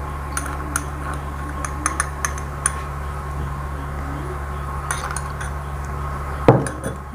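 Dry ajwain, salt and flour get mixed in a bowl for Punjabi mathri, giving light scattered clinks and taps of a spoon against the dish over a steady low hum, with one firmer knock near the end.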